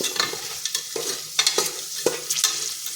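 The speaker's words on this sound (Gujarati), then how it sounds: "બધું જ મિક્સ કરી લઈશું" Rice pulao masala with turmeric stirred in a pan, quick repeated spoon scrapes and clanks over a soft sizzle, close and fairly loud with no voices.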